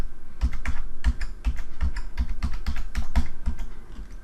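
Keys clatter on a computer keyboard as a bank account number is entered into an online form, a close, steady run of separate clicking strokes with short pauses between bursts.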